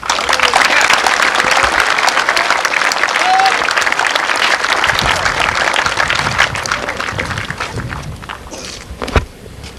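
An audience at an Airborne graduation ceremony at Fort Benning, Georgia, gives loud, sustained applause to welcome the guest speaker, then tapers toward the end.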